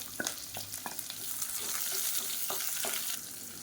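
Sliced onion frying in oil in a pan, the base for Chettinad mutton kurma, gives a steady close sizzle with a few soft stirring scrapes and taps. No one speaks.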